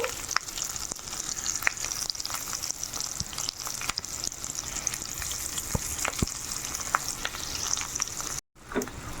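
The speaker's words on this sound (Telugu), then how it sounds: "మాడిపోకుండా లో ఫ్లేమ్లో పెట్టుకొని వేయించుకోవాలండి" Chopped onions and green chillies frying in oil over a low flame for gongura chutney, giving a steady close sizzle with scattered crackles and occasional stirring taps, briefly cut near the end.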